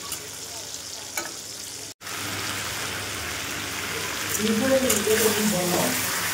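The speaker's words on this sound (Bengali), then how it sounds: "কাঁচা লঙ্কা দিয়ে দিলাম তেলের মধ্যে। তো এটা ভাজা ভাজা হয়ে এসেছে প্রায়, এবার এর মধ্যে পেঁয়াজ কুচি দেবো।" Green chillies sizzle in hot oil along with potatoes and tomato before chopped onion goes in. The frying hiss is continuous and grows fuller toward the end, and a brief dropout breaks it partway through.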